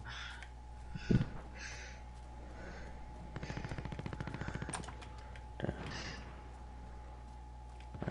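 Warzone video game gunfire crackles at low volume: a single sharp report, then a rapid burst of automatic fire, then a few scattered shots later on, all faint against a quiet background hum.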